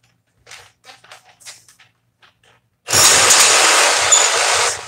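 Milwaukee SDS rotary hammer drill with a 1-inch bit, working near its capacity, starts up abruptly after a few soft knocks and brief quiet voices, then runs as a loud, steady, close grinding roar.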